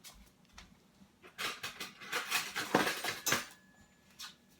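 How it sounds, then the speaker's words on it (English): Metal cutlery clinks and rattles as a fork is picked out from a pile of silverware, a cluster of bright, close clatters that peaks midway and fades with one last faint clink. "Let me grab a fork."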